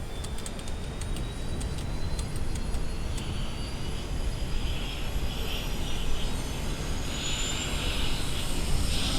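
Twin jet engines of a Fokker F28 in a flight simulator game strain to restart, giving a continuous airy roar with thin rising whines drifting upward. No voices are heard.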